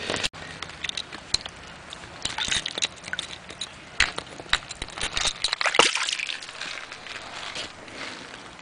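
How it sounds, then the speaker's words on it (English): Antique glass soda bottle washed off in a North Carolina creek: steady sloshing, trickling and patter of water with occasional splashes, close and fairly quiet, no talk. "Let me wash it off and see"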